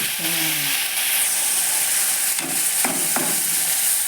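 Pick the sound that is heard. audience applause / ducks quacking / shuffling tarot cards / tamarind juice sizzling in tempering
tamarind juice sizzling in tempering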